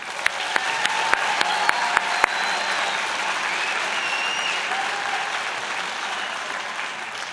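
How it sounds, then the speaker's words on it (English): Applause from a crowd at a 2019 graduation convocation, steady dense clapping sustained through the whole stretch with a few sharper claps standing out early on, no talking over it. "One more round of applause."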